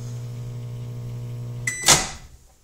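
A microwave oven heating shaving soap at reduced power: a steady electric hum runs for over a second and a half, then stops with a click and a short bright beep or door clatter, close and moderately loud.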